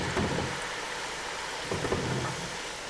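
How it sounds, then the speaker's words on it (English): French fries dropped back into hot oil in a Tefal deep fat fryer, a dense, continuous bubbling hiss that swells briefly midway, steady and close, with no talking over it. "we're going to drop the fries back in"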